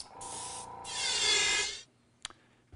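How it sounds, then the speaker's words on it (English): An airbrush used as a woodworking touch-up gun sprays clear shellac finish in a loud hissing burst that swells, holds and cuts off, followed by a couple of faint clicks. "Next thing I want to show you is running some clear coat through the gun"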